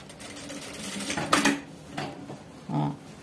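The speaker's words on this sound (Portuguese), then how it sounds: "Deixa eu costurar, já mostro pra vocês." A sewing machine stitches a child's crinoline petticoat with boning, running in short close bursts of rapid mechanical clatter separated by pauses.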